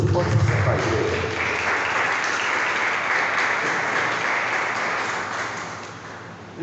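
A church congregation claps together during a worship service, a broad, steady applause from many people filling the room, with a pastor's voice briefly over it before the clapping slowly fades.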